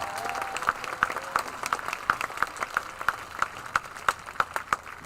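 Audience applause at a high school graduation ceremony, with scattered, distinct claps ringing out across a large space over a low crowd murmur and a brief voice early on.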